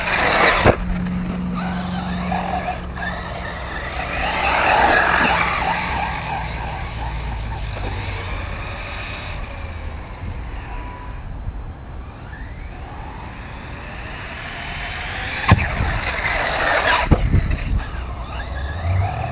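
An Arrma Typhon RC car drifts on its tires during a bash session, its motor whining steadily with swelling surges and occasional sharp clatters, staying fairly close and loud throughout.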